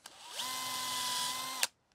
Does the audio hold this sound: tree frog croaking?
no